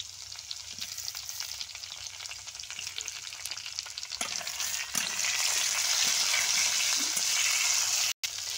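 Tomatoes for an ivy gourd and potato curry fry in a pan with a constant close sizzle and crackle, growing louder about halfway through, with occasional stirring scrapes and no talking.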